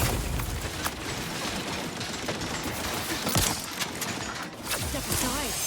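Wrist-mounted weapon fire in the sci-fi game The Outer Worlds 2 comes as scattered sharp bursts within a dense, noisy combat mix, with voices talking over it.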